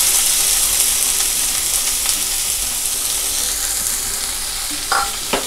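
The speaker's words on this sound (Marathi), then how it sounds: "व्यवस्थित परतून घेऊया।" Chopped onion and coriander sauté in hot oil for a chicken masala, giving a dense, continuous close-up sizzle with stirring, plus a couple of brief clinks near the end.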